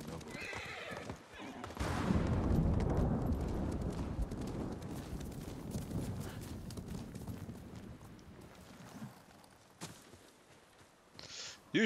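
A horse's hooves clip-clop in the video game Ghost of Tsushima, with a whinny and a steady run of hoofbeats at a moderate level while someone talks over the game.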